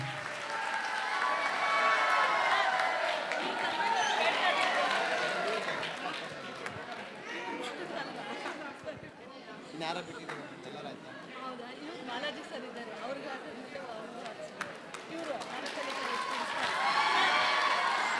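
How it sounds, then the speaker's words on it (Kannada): Students in an audience clap together at a stage event, a steady, dense round of applause with crowd chatter underneath, swelling at the start and end. "ಚಪ್ಪಾಳೆ ಬರಲಿ."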